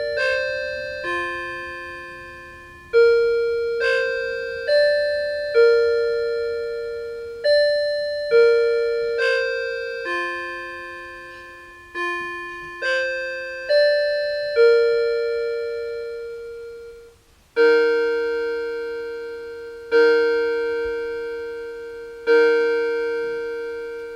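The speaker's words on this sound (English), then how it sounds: "we will hear the chimes and the gong" A grandfather clock striking seven o'clock: a series of clear bell-like chimes rings out in a steady melodic sequence, then several deeper, resonant gong strikes follow, each ringing and decaying.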